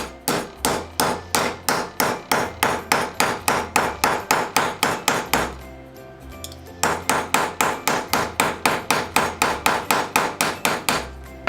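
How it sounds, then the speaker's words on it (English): A riveting hammer strikes folded copper sheet on a steel block in a fast, steady series of loud, sharp metallic blows, pausing briefly mid-way before the rapid hammering resumes, with no voices. "I'm going to use the front side of the riveting hammer"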